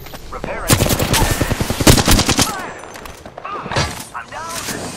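Rapid automatic gunfire from the Apex Legends video game crackles in loud, dense bursts with a short lull, and game voice callouts sound over it.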